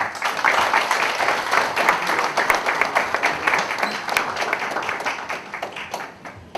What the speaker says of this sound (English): can we please have another round of applause for the Japan Coast Guards?